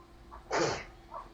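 A single sharp sneeze bursts out close by indoors during a tabletop game session, brief and loud against a quiet background.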